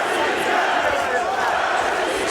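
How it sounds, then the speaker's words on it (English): A Moscow crowd at an MMA fight roars in support of fighter Alexander Shlemenko, a dense, sustained wash of cheering and shouting that fills the arena evenly. "Moscow crowd fully behind Alexander Shlemenko now."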